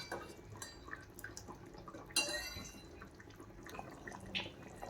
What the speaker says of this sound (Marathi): असंच हलवत राहायचं आहे मंद आचेवर